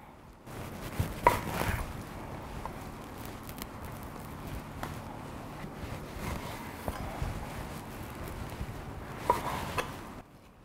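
A knife chops fish on a cutting board in a steady run of sharp, close knocks that continue for about ten seconds without talking.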